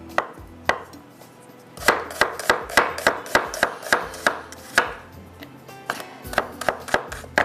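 Knife chopping onion on a cutting board while preparing masala for mango murabba, with a burst of quick steady strokes, a pause, then a longer run of sharp close chops.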